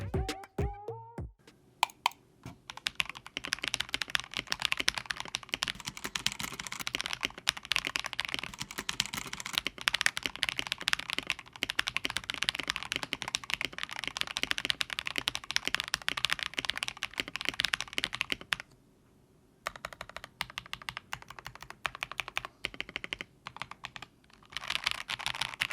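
Mechanical keyboard fitted with CS Matcha green switches and ASA Midnight keycaps, a Meta71 board, typed on in rapid dense bursts of close, crisp clacks, pausing briefly near the end, with no talk.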